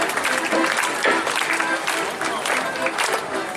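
A crowd at a harvest festival in Hindisheim applauds outdoors, producing a broad, continuous wash of clapping with faint voices and background bustle mixed beneath it.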